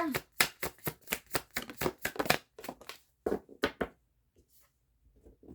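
Tarot cards are shuffled and drawn by hand in a quick run of crisp riffling slaps, then a few slower, sparser flicks and taps, close up.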